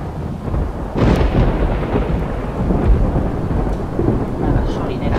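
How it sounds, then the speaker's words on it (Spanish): Thunderstorm in the zombie survival game Project Zomboid, with a loud rolling thunder rumble that builds and sustains over steady heavy rain, no talking. "vaya tormenta veraniega"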